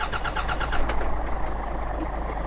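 A Hino dump truck's engine in Euro Truck Simulator 2 cranks with a rapid, rhythmic starter chatter for under a second before settling into a steady low rumble that never catches cleanly.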